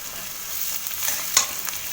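Chopped onions frying slowly in a pan for aloo chokha, a steady soft sizzle with light stirring scrapes and one brief louder clink near the end, no voices.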